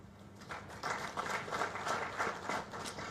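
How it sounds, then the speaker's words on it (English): An audience claps at a veterinary association gathering, a steady patter of applause of moderate loudness with no talk over it. "I wanted you to clap for them"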